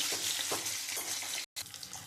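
Bhetki fish pieces frying in hot oil give a steady, dense sizzle throughout, close and fairly loud, broken by one brief silent gap near the end.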